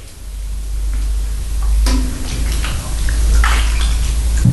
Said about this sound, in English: Now what I'll do is I'll wash my hands again